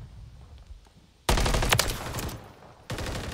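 Gunfire in an online shooter game, ranked Invasion Hardpoint mode: a quiet start, then a sudden loud burst of rapid automatic fire that continues, pauses briefly, and resumes near the end.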